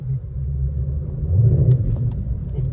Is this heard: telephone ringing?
no